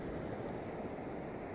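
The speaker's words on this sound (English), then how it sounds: "as the ocean rolls in" Ocean waves roll in as a steady, soft broadband hiss of surf with some wind, faint and continuous without distinct breaks.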